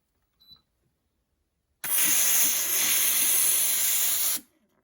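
Steam wand of a Tuni E2 58mm espresso machine purged during cleaning: a loud, steady close hiss that bursts on abruptly, holds for about two and a half seconds, then cuts off, alone without talk.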